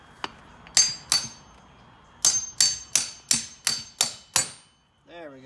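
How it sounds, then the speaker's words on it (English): A house hammer strikes a metal punch repeatedly while preparing a car differential for welding: two sharp hits, a pause, then a steady run of six ringing blows, followed by a brief tonal squeak. "Now I just have a house hammer and this punch set."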